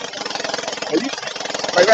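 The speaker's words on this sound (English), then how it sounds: "Right now, it sounds like it's running at real high RPM" Small engine on backyard lumberjack equipment revving high while warming up, heard as a steady, loud, buzzing drone with a slight pulsing flutter and a brief rise at the end, close by with a voice faintly underneath.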